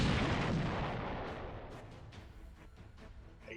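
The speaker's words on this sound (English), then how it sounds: "I hear an explosion." A loud explosion blast in a Star Trek space combat game as a ship's engines are shot out, a broad roaring burst that decays over a few seconds into a fading rumble with scattered crackles.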